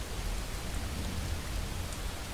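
Steady rain falls in a video game, a cold, continuous downpour with a soft hiss and low rumble, heard alone without voices.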